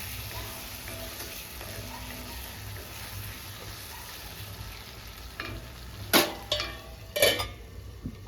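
Dried red chillies sizzle softly in a pan for roti pachadi, a low steady frying hiss broken near the end by a few sharp scraping stirs of a spoon against the metal.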